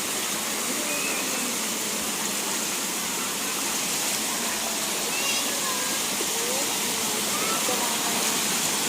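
River water rushes and gushes steadily as a broad, continuous wash, close and fairly loud throughout, while people wade and splash nearby.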